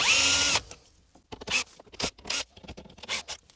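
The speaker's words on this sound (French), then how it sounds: "on va démonter les 4 vis ici pour retirer l'autoradio. Donc, c'est du Torx, des tournevis en étoile de taille 20" A power screwdriver backs out Torx T20 screws holding a car radio: a short loud whir, then a series of brief ratcheting bursts and scrapes with pauses between them, close by and with no speech.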